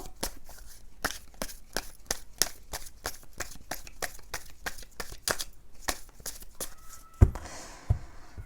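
Tarot cards are shuffled and drawn in a quick series of crisp, close snaps and riffles. Near the end the cards settle into softer rustling and a light tap, with no voice heard.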